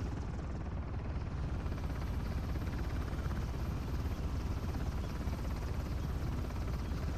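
Helicopter in the video game Uncharted: The Lost Legacy, a steady rotor drone that holds at an even level throughout without talk.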